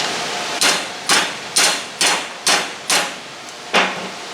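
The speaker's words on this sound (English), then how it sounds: "Just get in there with your little hammers." Hammer blows strike sheet metal on the frame and floor of a 1970 Cougar, seven sharp ringing hits at a steady, slightly uneven pace, loud and close, each ending in a brief metallic decay.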